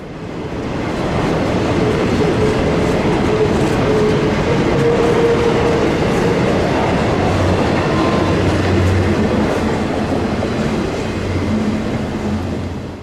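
A long freight train rumbles steadily past close by, wheels clattering over the rails in a loud, continuous roar.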